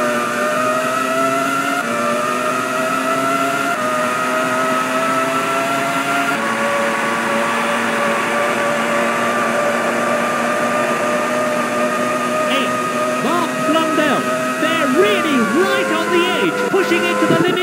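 A Formula 1 car engine in the 1995 PS1 game Formula 1 at Hockenheim, a loud, buzzing synthetic engine whine that climbs in pitch and drops at each gear change, then wavers and revs near the end.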